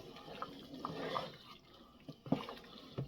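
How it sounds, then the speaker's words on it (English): A spoon stirs simmering homemade goulash in a pot, giving soft wet sloshes and bubbling liquid sounds in several irregular bursts, close and fairly quiet. "Let me stir it up."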